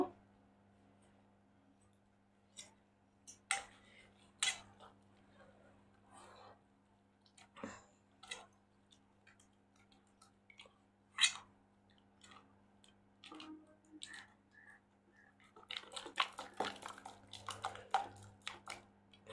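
Chitol pitha batter is mixed by hand, producing sparse, soft wet squelches and clicks at irregular intervals over a quiet, low background hum.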